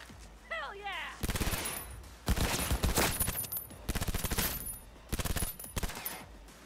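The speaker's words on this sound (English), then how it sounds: "That's why it was loud, goddammit. Stupid sniper rifle." Repeated sniper rifle fire in Cyberpunk 2077, coming in three loud bursts of reverberant shots with short pauses between them, and no talk over them.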